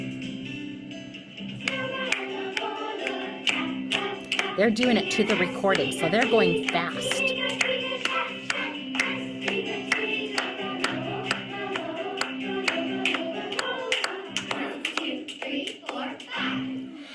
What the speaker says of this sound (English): you pass a clap around the circle, and it goes clockwise